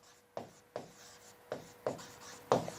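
Pen or marker writing a definition of a finite set on a board during a maths lesson, five distinct strokes spaced at roughly regular intervals, each a short scratchy burst, fairly close with no talk over it.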